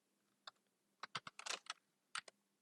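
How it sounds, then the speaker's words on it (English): Typing on a computer keyboard, with scattered light key clicks that build into a quick flurry in the middle and end with a few final taps, soft and close in a quiet room. "So I'm typing as input"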